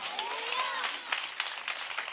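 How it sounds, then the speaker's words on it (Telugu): A church audience at a Christian gathering in Vijayawada claps steadily and fairly loudly, a continuous mass of hand claps with a few sharper bursts and a voice faintly mixed in. "చప్పట్లు కొట్టండి గట్టిగా."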